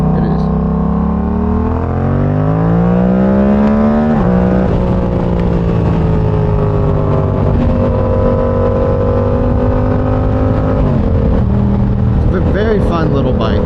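A Yamaha R7 motorcycle exhaust drones loudly and steadily while riding, its engine note rising and falling as the rider shifts through the revs. Wind rush sits under the tone, and a voice is faintly present.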